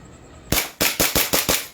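An airsoft pistol, a Glock 18 or Hi-Capa, fires a rapid burst of six sharp, loud snapping shots in quick succession after a brief quiet pause.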